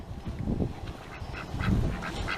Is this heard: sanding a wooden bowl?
no